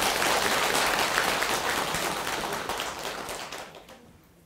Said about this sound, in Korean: 10년 회향에 축하 박수